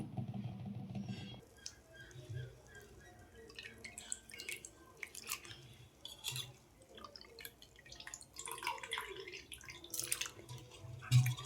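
Urad dal and chana dal get washed in a bowl of water in a home kitchen, giving soft close sloshing, dripping and patter with irregular splashes.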